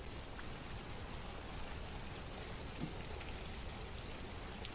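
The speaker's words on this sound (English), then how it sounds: "It's raining Wait. out here." Steady rain falls outdoors in the video game Detroit: Become Human, an even, continuous hiss of drops hitting surfaces at moderate volume with no voices.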